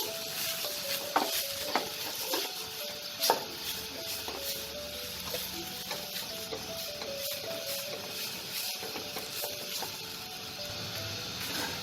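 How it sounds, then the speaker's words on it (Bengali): Spiced potato filling for Bengali aloo chop is stirred in hot oil, giving a soft steady sizzle with repeated scraping and clinking strokes of a spatula against the pan, moderately close and without talk. "তেলে হালকা নাড়াচাড়া করে নেব।"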